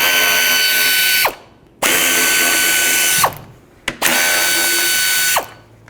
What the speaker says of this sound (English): The fans are held onto the radiator with 3 bolts. Go ahead and take them out.